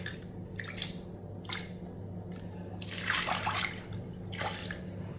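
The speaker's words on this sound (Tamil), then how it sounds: "நல்லா ஊற வச்ச தண்ணியும் இதிலே ஊற்றிக்கிடுவோம்." Soaking water poured from a vessel into a pressure-cooker pan for a weight-loss soup, heard as splashing bursts of liquid that come and go, the loudest pour in the middle, over a steady low hum.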